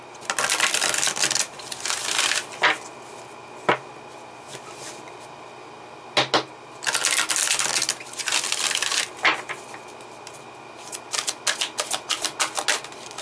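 Tarot cards being shuffled nearby: clustered riffling, crackling bursts come in short spurts between brief pauses and a few sharp taps, with a longer dense run in the middle.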